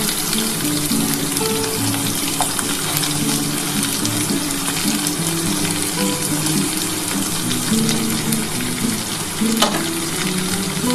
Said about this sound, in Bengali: একটু ভাজা ভাজা হলে তারপর আমি ঝিঙেটা দেবো।